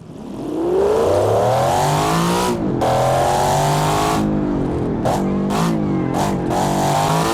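A 1980s GT car in the BeamNG driving game roars with a loud, continuous engine note, revving up and dropping between gear shifts, with brief cuts and rapid throttle blips near the end.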